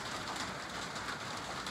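Rain falls steadily on a roof built to catch rainwater, making a soft, even hiss and patter that stays faint and unbroken, with no voices.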